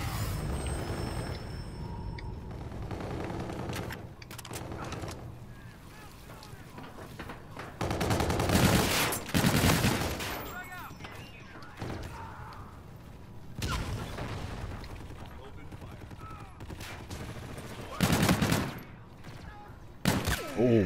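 Gunfire in the video game Call of Duty: Infinite Warfare, with dense bursts of automatic shots and loud volleys peaking in clusters near the start, middle and end over a steady battle rumble.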